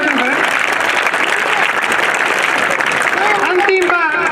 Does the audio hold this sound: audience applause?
yes